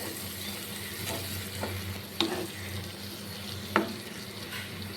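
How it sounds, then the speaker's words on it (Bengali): Spice paste with chopped tomato sizzles steadily in a pan for an egg curry while a spoon stirs it, with a couple of sharper scrapes against the pan. "টমেটো কুচি দেওয়ার পর মশলাটাকে আরও কিছুক্ষণ কষিয়ে নেব।"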